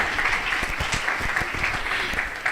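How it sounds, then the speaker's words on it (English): An audience at a college convocation ceremony applauds graduating master's students, a continuous spread of many hands clapping with a few sharper individual claps standing out. "we can hear the applause for the master students as well"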